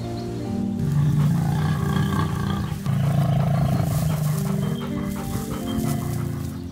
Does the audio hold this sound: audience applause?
no